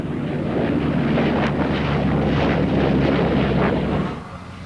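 An EH-101 helicopter flying at the 1990 Farnborough air show, a steady, loud, rumbling roar with a broad rushing wash that holds for about four seconds before fading slightly.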